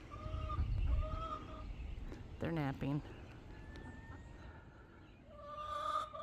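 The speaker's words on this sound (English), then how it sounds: "Domestic geese, let me show you them." Domestic geese give short honking calls at moderate distance, a few scattered honks with a more prominent burst in the middle, while a person speaks briefly nearby.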